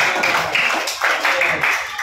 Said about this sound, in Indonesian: Oke, tepuk tangan buat kelompok Panji.